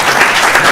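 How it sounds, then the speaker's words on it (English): A brief burst of applause from a devotional gathering, loud and dense, with many hands clapping at once in a short continuous wash. "Give them a big round of applause."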